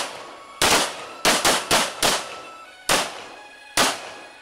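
Gunfire during a night combat shooting drill: seven sharp, loud shots in irregular groups, a quick cluster of four followed by two more spaced apart, each with a short decaying echo, no talk.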